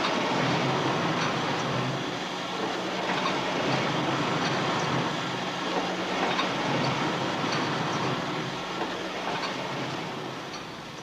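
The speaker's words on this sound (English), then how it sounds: "A machine can manufacture up to 900 pairs of tights an hour." A tights knitting machine fitted with a laminate cam runs at high speed, making a steady, dense mechanical clatter with a rhythmic clicking texture that continues at even loudness throughout, with no voices.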